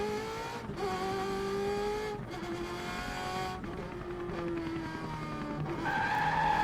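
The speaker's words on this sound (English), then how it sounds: "Beautiful drift." Racing karts drift through corners in qualifying, their tires squealing in long sustained screeches over loud, steady engine drone, with pitch shifting as the karts pass.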